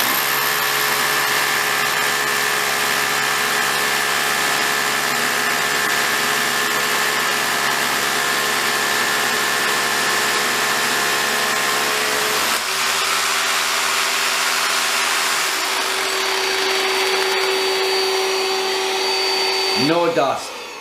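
A Milwaukee M12 universal dust extractor with HEPA filter, running during drilling with a 16mm bit, gives a loud steady whining drone whose pitch drops partway through and winds down with a rising sweep at the end.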